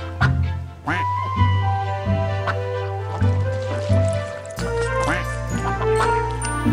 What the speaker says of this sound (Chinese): 小灵鸭一直住在这个美丽的养鸭场。